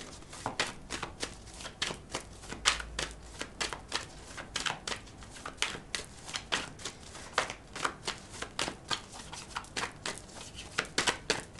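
Tarot cards are shuffled by hand close up, making rapid, repeated papery riffles and slaps in an irregular rhythm that continues steadily throughout the clip.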